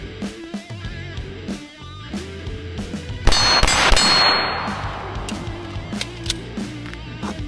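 Pistol shots from a VP9 pistol ring off steel targets in a combat drill, a sharp burst of bright metallic clangs in the middle with scattered lighter pings before and after, fairly close and without speech.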